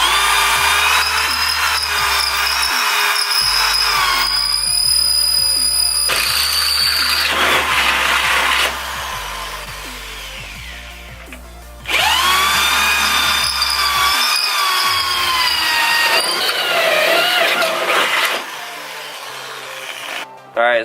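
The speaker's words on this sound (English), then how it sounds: "So I gotta drill the holes out for that." A power drill bores holes to mount a radiator to a vehicle frame, its whining motor running in repeated close, loud bursts with short pauses between them.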